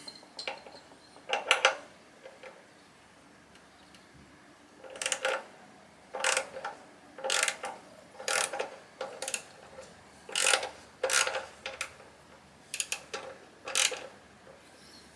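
A ratchet wrench clicks in short bursts while loosening the bolt holding an Akrapovic titanium slip-on silencer on a Honda CB1000R. The quick metallic ticking repeats in about a dozen close, moderately quiet runs with brief pauses between them.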